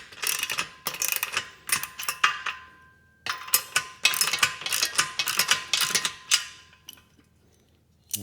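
A ratchet wrench tightens a carriage bolt on a leg extension machine, giving bursts of fast, close clicking strokes in uneven runs with a brief pause midway.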